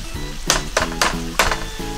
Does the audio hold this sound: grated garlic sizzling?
yes